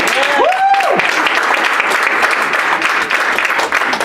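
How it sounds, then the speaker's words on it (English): A crowd claps steadily and loudly throughout, with a brief voice rising briefly over the applause near the start. "can you give another round of applause for Jessica, please?"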